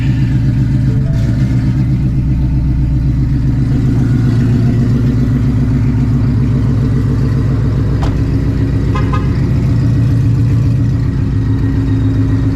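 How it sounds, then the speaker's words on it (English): A Shelby GT350 engine idles on a cold start with a steady, rough, loud rumble and a slight rhythmic clatter, running continuously without revving up. "About to get this cold start and head out to Mexico."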